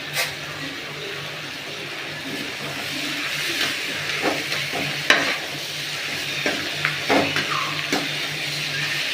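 Tomatoes sauté in a hot pan for beetroot chutney, a steady close sizzle with occasional scraping stirs and clinks throughout.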